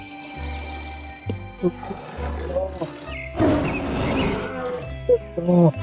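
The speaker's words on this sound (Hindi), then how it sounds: "शेरू ने उसे देखा और गुर्रा कर" A big cat growls in deep, rumbling bursts, building to a rough roar midway, then trailing off into more low growls.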